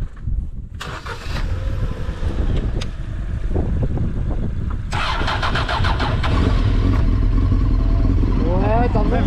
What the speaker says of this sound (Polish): odpala Forda.